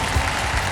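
Studio audience on a quiz game show clapping to welcome contestants, a brief, steady wash of applause at moderate loudness with no voices over it.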